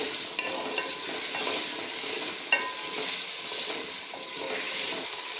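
Potatoes frying in oil for aloo methi as they are stirred, with a continuous hissing sizzle and a few clinks of the spoon against the pan. Nobody talks.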